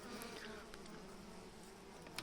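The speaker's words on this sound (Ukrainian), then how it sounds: "В бутилці жодної бджоли нема, все оси." A close, constant buzzing drone of wasps trapped in a bottle of apple juice, humming steadily with slight shifts in pitch, confined and resonant.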